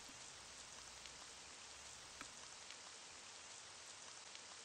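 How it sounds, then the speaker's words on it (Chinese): Steady, quiet rain patters indoors in the horror RPG Ib, a soft continuous hiss sprinkled with faint drops and no voices. "您在房间里面却下雨了。"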